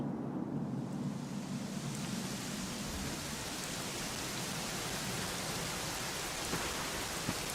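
Steady rain falls in Dragon Quest XI, a dense unbroken hiss that holds at an even level throughout, with no voices.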